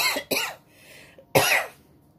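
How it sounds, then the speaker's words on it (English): Two quick coughs close together, then a pause and one more harsh cough, close and loud in a quiet room. "Hope I don't go in a coughing fit."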